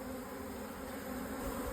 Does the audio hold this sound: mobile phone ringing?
no